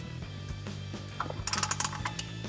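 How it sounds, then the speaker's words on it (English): A 17mm ratcheting wrench tightens the lower shock bolt on a 4Runner during a 2-inch suspension lift install, with a short run of rapid, close metallic clicks that grows louder and quicker in its second half. "Now take a 17mm ratcheting wrench and tighten down your lower shock bolt."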